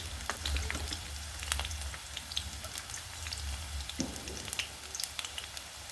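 Chopped onions with bay leaves frying in oil in a pressure cooker, a soft, steady sizzle with scattered crackles and pops at close range, fairly quiet.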